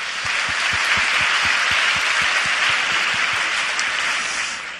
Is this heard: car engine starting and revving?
no